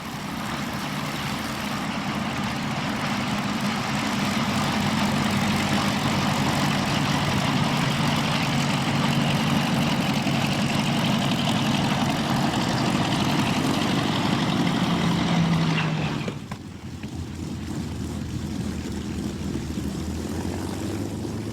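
The propeller engines of a de Havilland DH98 Mosquito, a WWII fighter-bomber, drone steadily and loudly for about sixteen seconds before the sound drops abruptly to a quieter rumble.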